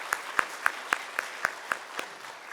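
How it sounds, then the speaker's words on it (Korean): Even, rhythmic clapping for a church worship team during an early-morning service, about four claps per second, steady and close for a few seconds. "우리 찬양팀 위에서 박수 한 번만 부탁드립니다."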